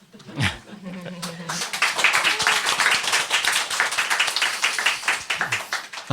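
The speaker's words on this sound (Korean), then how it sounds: "지금도 박수 소리가 들리시죠?" A group of about twenty elementary school teachers clapping at a training workshop in Gangwon Province, with many hands beating in a brisk, uneven patter after a short spoken line and a brief vocal sound at the start.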